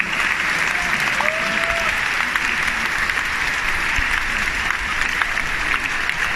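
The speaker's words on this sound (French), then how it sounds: "Le tout sous des applaudissements mûris du public." A concert hall audience at a Sino-French symphonic concert in the Théâtre des Champs-Élysées, Paris, applauds. The clapping is steady, loud and sustained, filling the room evenly with a dense wash of hands.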